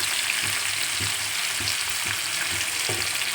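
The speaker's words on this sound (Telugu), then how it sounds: "ముందుగా కట్ చేసి పెట్టుకున్న వంకాయ ముక్కలను కూడా ఆయిల్లో వేసేసుకున్నాం" Eggplant pieces frying in oil with cumin seeds, a dense even sizzle close by, punctuated by regular soft thuds of stirring about every half second, with no voices.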